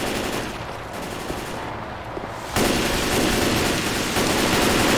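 Gunfire in the zombie shooter Left 4 Dead 2, a continuous dense burst of shots that jumps louder partway through, with no talk.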